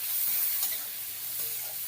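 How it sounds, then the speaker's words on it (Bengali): Peas frying in a pan with turmeric and chili powder, stirred for a matar paratha filling, give off a steady, close sizzling hiss with soft scraping from the stirring. No one speaks. "এবার এটা দিয়ে সুন্দর করে মিক্স করে নাড়িয়ে নেব।"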